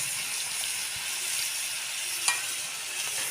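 Steady sizzle of meat frying in a pan after a little water is added, a dense continuous hiss with one brief sharper spit near the end, no voices.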